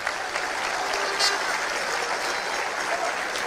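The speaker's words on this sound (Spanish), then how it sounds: "Un aplauso al Señor." A church congregation claps for the Lord after a pastor's sermon, a continuous, moderately loud patter of many hands with slight swells, cheering voices faint beneath it.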